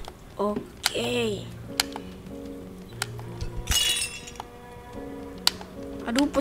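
A beer bottle smashes in Untitled Goose Game, a bright burst of breaking glass and clinks amid plinky game music and other small chimes and taps, with the crash loud and close.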